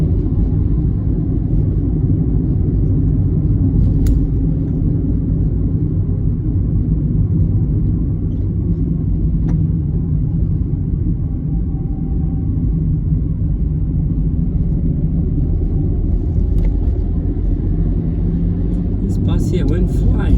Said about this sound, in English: This bus here went flying through a red traffic light and got stuck in the next one.